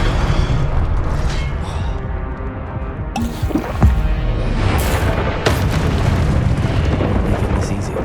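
A Confringo fire spell in Hogwarts Legacy bursts with deep booming blasts amid ongoing game combat noise, with sharp impacts near the middle and sustained rumbling throughout.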